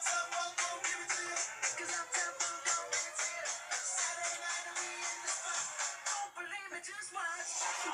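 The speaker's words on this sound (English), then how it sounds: "Because someone is ringing my mum's mobile in the middle of a video," A mobile phone rings in the background indoors, a steady, rapidly pulsing tone repeating throughout, moderately faint and partly masked by other sounds.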